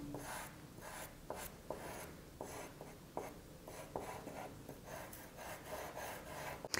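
A heavy charcoal stick scrapes and rubs across paper in a drawing's finishing stage, with short raspy strokes in an uneven rhythm, close and fairly quiet, with no talking.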